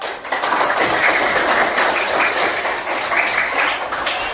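A class of Indonesian elementary school children clapping together, a dense, steady applause that fills the classroom for several seconds without pause.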